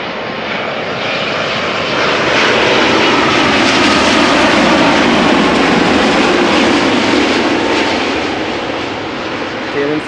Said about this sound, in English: Next up is a Dreamliner arriving from Delhi